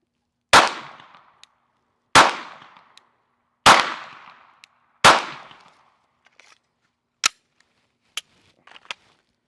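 A Glock 17 Gen 6 pistol fires four sharp, loud shots at a target at evenly spaced intervals outdoors, each with a short echoing tail, followed by a few faint clicks and distant taps.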